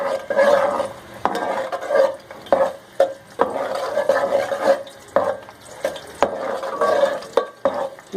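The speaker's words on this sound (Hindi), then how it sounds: "गरम करने के बाद हम इसके अंदर डाल देंगे, ये मैंने 2 अदद हरी मिर्चें ली हैं, जिनको मैंने काट लिया है, वो हम इसमें डाल देंगे और इसको अच्छी तरह से इसमें फ्राई कर लेंगे।" Chopped green chillies fry in hot oil for mash ki daal, a close sizzle rising and falling in bursts as a utensil stirs and scrapes the pan repeatedly, with sharp knocks between strokes and no speech.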